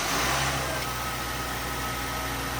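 Repaired car engine running, a steady close idle hum with a faint rhythmic miss, continuous and fairly loud, with no talking over it.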